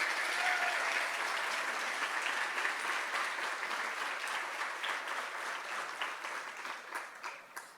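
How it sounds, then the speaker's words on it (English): Audience at a women's history breakfast honoring women in Central Florida sports gives honorees a sustained round of applause, dense and even, easing slightly toward the end. "Let's have one more big round of applause for all of our honorees."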